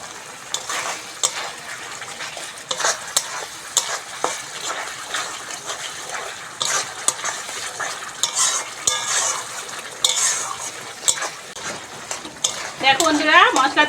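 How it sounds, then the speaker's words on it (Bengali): Spice paste for a potol chicken curry is fried and stirred in a pan, giving a steady close sizzle broken by repeated scraping strokes of a spoon and light metallic clinks, with no talking. "বন্ধুরা মশলাটা ভালো করে কষে নেব।"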